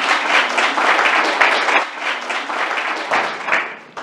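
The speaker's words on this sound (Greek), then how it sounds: "Ένα θερμό χειροκρότημα." Warm applause from a lecture audience at a classics gathering in Delphi, close, lively clapping with uneven swells that fades toward the end.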